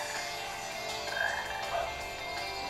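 A frog croaks in the video game Sonic Heroes, a low, steady call lasting a few seconds at moderate level over a constant background of game sound, with no talking.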